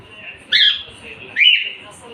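Pet cockatiels at home give two loud, sharp chirping squawks about a second apart, close by, over a quiet room.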